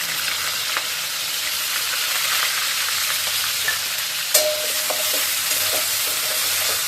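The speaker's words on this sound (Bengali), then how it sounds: "ভালো করে একটু ভেজে নিই।" Raw rice and green chilies fry with cumin and bay leaf in a pan, a loud continuous sizzle broken by scraping stirs and one sharp clatter partway through; nobody speaks.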